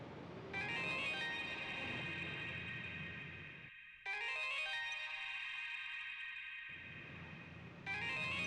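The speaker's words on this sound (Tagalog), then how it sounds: "Nag-ring po yung cellphone." A cellphone ringtone plays loud and close, a bright electronic melody that rings for about three seconds, pauses briefly, rings again, then restarts after a short silence. No one speaks.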